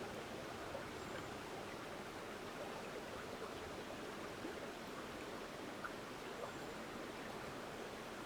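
A river flowing behind a house, a steady, soft broadband rush of moving water, fairly distant and quiet, continuous throughout with no talk.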